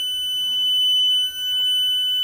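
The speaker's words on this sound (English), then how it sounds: "I'm going to see what would happen if I put this smoke detector" A smoke detector emits a continuous shrill, high-pitched electronic alarm tone, steady and close, with faint background noise underneath.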